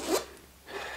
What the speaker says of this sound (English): you just unzip it,